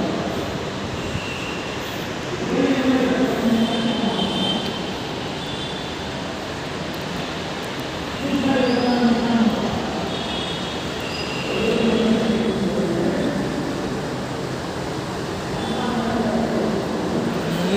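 Loud, steady rumble of metro construction work nearby, with periodic swells of grinding, rolling noise rising every few seconds; no one speaks.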